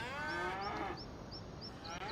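Cattle on a farm with new calves, a cow giving a loud, drawn-out moo close by, then fading against faint background noise and chirps.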